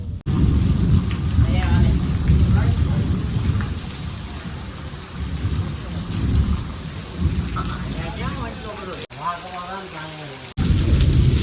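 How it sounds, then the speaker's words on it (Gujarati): Heavy rain pours down steadily, loud and close, while deep thunder rumbles underneath; the downpour briefly cuts out twice near the end. "મસ્ત વરસાદ આવે છે, વીજળી પણ થાય છે"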